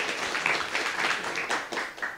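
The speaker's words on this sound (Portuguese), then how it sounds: "Salve de palmas, então." Audience applause at a 7Masters developer meetup talk on Vue.js: a steady, fairly quiet wash of many hands clapping that continues for the whole stretch with no talk over it.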